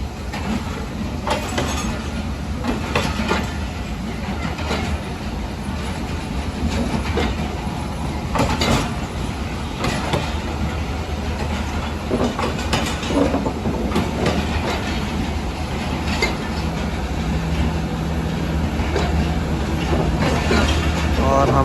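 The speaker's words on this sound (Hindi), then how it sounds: "अब हमारी ट्रेन ने भी रवाना होना शुरू कर दिया है।" The Shalimar Express pulls out of Lahore Junction with a steady rumble and rhythmic clicking wheels that stay loud and close throughout, with occasional squeaks and thumps from the cars.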